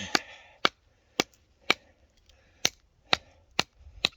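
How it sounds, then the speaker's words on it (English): A Schrade Uncle Henry 183UH knife chops into a knot in wood in winter cold, giving about eight sharp, loud, close impacts at a fairly even pace, each ringing briefly, with no talking. "this is a knot right here I'm going to chop into"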